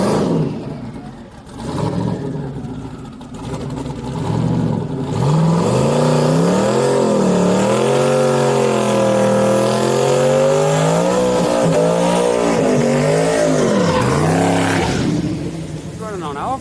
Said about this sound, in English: Here comes this Corvette, chat.